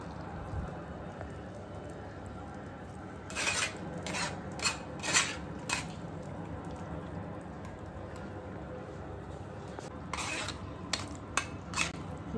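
A ladle presses and scrapes against chicken pieces in a pot of light chicken curry, giving a few faint, soft scraping rubs in two small clusters over a quiet kitchen background.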